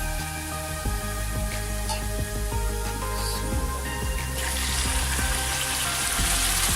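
Chopped tomatoes hitting golden-brown fried onions in a hot pan for chicken shorba, giving a steady loud sizzle and frying hiss with scattered clinks and splashes, no voices.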